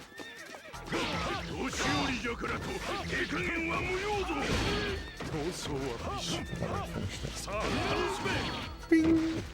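Horses neigh and whinny repeatedly in Samurai Warriors 2 Empires, with loud, shrill calls over a busy game battle soundscape while someone talks over it.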